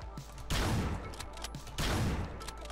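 Sniper rifle fire in the video game Hotline Miami 2: two sharp, loud shots roughly a second apart, each with a booming, decaying tail.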